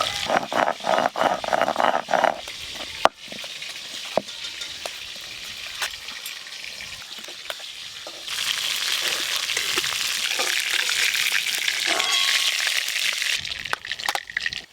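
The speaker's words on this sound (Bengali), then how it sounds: "রুই মাছ বলো, কাতলা মাছ বলো, এইসব মাছ একটু কড়া করে ভাজতে হয়" Hot oil sizzles and spatters steadily as rohu fish fries crisp, with occasional clicks of stirring; the sizzle grows louder and fuller partway through.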